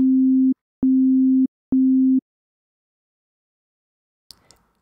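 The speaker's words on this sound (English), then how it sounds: "You can hear when I play these two sine waves that sound exactly the same." Three short bursts of two identical sine waves played together as a plain, pure low tone, followed by silence and a faint brief rustle at the very end.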